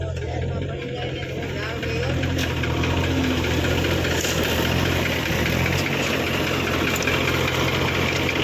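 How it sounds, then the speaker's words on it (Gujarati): A tractor engine runs at a steady, low, throbbing idle on a farm, close and constant with a faint mechanical rattle, while a voice talks over it. "આપણો આ ટ્રેક્ટર ચાલુ થઈ ગયું."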